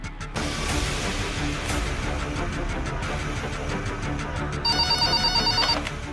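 A telephone rings in repeated electronic bursts over a steady engine-like hum, with the ring growing louder and clearer near the end.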